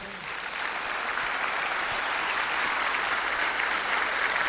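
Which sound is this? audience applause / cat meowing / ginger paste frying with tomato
audience applause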